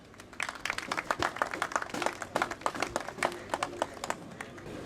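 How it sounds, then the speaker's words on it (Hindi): Audience applause at a party members' convention in Lahore: a crowd clapping steadily with many distinct hand claps, fairly close and sustained throughout, with a faint voice now and then. "भरपूर ताली से इस्तकबाल कीजिएगा मकसूद मुजाहिद।"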